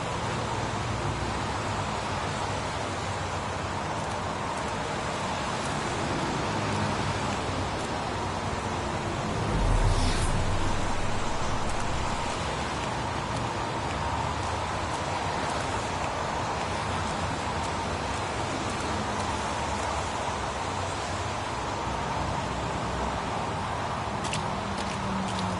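Steady rain falls across an outdoor wasteland in the PS4 game Heavy Rain, a continuous even hiss of downpour with a brief swell of noise midway and no talk.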